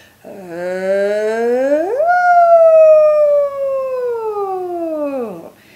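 A single sustained sung tone starts low, glides smoothly up, holds, then slides back down, clear and close with no accompaniment.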